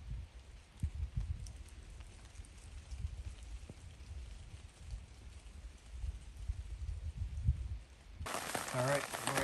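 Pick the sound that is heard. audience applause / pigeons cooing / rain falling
rain falling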